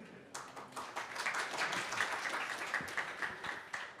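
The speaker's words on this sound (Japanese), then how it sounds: "拍手でお迎えください" An audience at a PyCon JP 2022 conference talk claps to welcome a speaker, with dense, even applause building in after a short quiet start and holding steady at moderate loudness, some individual claps standing out near the end.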